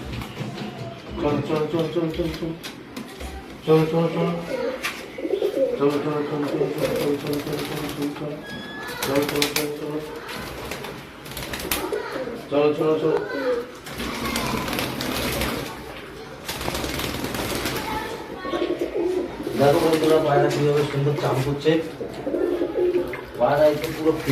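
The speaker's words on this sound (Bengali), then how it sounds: "এবার পায়রা চাচ্ছি দেখো পায়রাগুলো স্নান করবে" Pigeons bathing coo in a steady, overlapping chorus near at hand, mixed with wing flutters and splashing, while a person talks over them intermittently.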